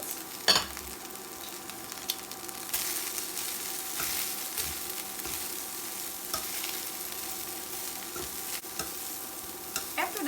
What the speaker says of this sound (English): And now I'm going to add in my greens.